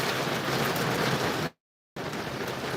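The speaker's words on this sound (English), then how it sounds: "I don't want to be outside when it's raining hard like this." Heavy rain pours down steadily as a dense, loud wash of noise, broken by a brief total silence before the downpour resumes.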